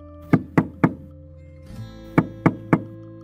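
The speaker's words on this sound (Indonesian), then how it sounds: "Dan kemudian, dia pun mengetuk pintu rumahnya." Knocking on the door of a house late at night: two sets of three firm, hollow knocks separated by a short pause, close and clear.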